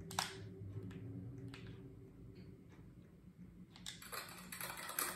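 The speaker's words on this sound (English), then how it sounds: "The keyboard sounds have changed, obviously." Computer keyboard typing in the video game Flee the Facility, with light, quiet key clicks tapping irregularly. A denser flurry of taps comes near the end.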